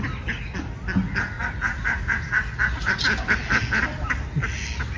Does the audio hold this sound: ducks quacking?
yes